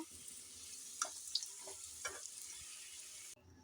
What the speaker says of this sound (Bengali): এই তেলে আমি এই মশলাগুলো কষে নেব।